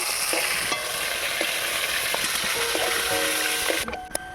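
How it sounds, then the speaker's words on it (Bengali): Chicken pieces fry noisily in a pan of oil, a dense, continuous close sizzle with crackles and occasional clicks, holding loud before easing at the end. "বাকি চিকেনগুলোকে আমি আবারও ভেজে নেব।"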